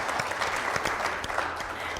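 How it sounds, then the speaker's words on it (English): A seated audience at a speaker series gives the moderator and panelists a round of applause, dense steady clapping from many hands, filling the room evenly with a few louder individual claps standing out. "I want you all to give a round of applause to our moderator and panelists."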